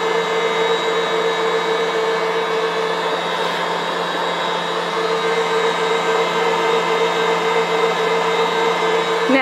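Electric mixer whipping flodeboller filling, a steady continuous motor whir with a bright mechanical hum, even and unbroken throughout.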